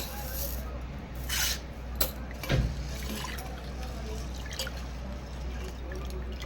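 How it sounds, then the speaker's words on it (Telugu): Tomatoes being washed in water in a home kitchen, with soft drips and light splashing running faintly and steadily throughout, plus a couple of small sharper knocks near the middle. "టమాటాలు అయితే కడుక్కుంటున్నాను"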